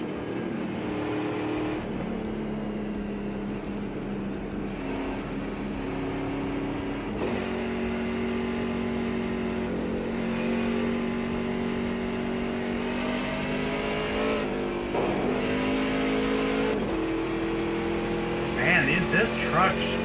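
A racing truck engine in the iRacing video game drones at steady, sustained revs with gear shifts and pitch changes, loud and continuous, while someone talks over it.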